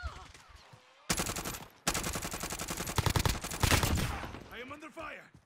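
Automatic gunfire in Warzone: after a quiet moment, loud rapid bursts of shots crackle for several seconds in dense strings, then fade to softer sounds and faint voices.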